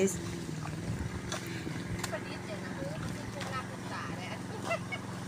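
A motorized water pump hums and drones steadily nearby while someone talks over it throughout.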